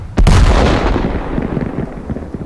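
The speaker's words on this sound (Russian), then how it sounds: "Вот видите, это другой взрыв уже." A tank shell explodes in World of Tanks with a sudden loud boom, followed by a long rumbling, crackling decay and scattered smaller pops.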